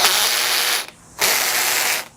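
A Makita drill's slip clutch, set to 5 on the screw setting, ratchets in a loud, rapid buzzing chatter that stops briefly for about a third of a second, then resumes at full strength.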